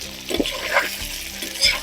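Potatoes frying in a pan for a lard-based stew, with soft sizzling and the scrape of stirring in short bursts, close and fairly quiet, with no one talking.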